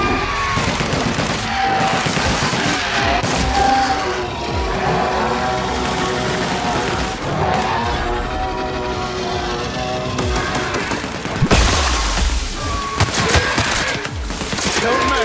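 Cannons fire repeatedly on a battlefield in The Outer Worlds, sending loud booms and crackling gunfire over a steady layer of game music, with a heavier burst near the end.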